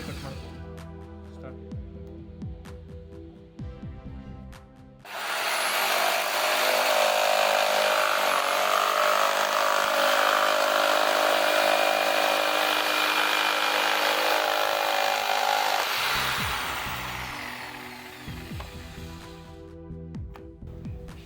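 An IBELL 650W jigsaw cuts through wood in one continuous, loud, close run of about eleven seconds, buzzing and rasping steadily before it winds down, with quieter handling noise before and after.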